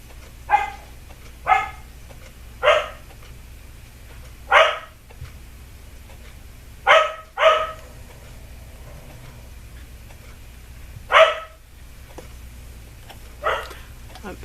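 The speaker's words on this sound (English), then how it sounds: "My dog was barking like crazy." A dog barks about eight times nearby, with single sharp barks and one quick pair spaced by pauses of a second or more over a low, steady background hum.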